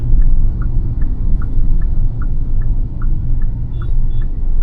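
A car engine rumbles steadily, close and loud, as the driver downshifts into first gear while preparing to turn, with faint regular ticking of the turn signal running over the drone.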